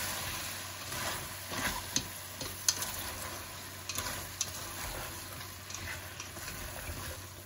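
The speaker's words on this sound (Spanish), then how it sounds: "Que sofría 2 minutos todo" Vegetables seasoned with sweet paprika and pepper fry steadily in a pan, a soft continuous sizzle with occasional small crackles and stirring clicks, heard alone.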